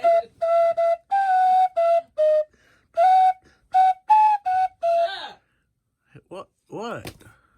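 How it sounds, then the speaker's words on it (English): A whistle is blown in a rapid string of short, shrill toots, loud and close, followed by a voice speaking briefly. "Please throw away the whistle."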